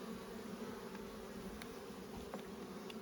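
Buckfast honey bees hum during an open hive inspection, a soft, steady drone of many wings with a few brief closer buzzes passing by.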